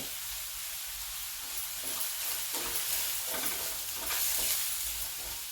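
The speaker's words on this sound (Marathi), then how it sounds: "अगदी एकच मिनिट आपण हा कांदा परतत आहोत" Chopped onion sautés in a pan with a soft, continuous sizzle, punctuated by rhythmic scrapes and knocks of a spoon stirring; fairly quiet, close up, no voices.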